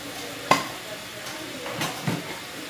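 Philippine street food sauce made with soy sauce and salt is stirred in a container, giving a few sharp clinks and scraping swishes at irregular moments over a soft background hiss.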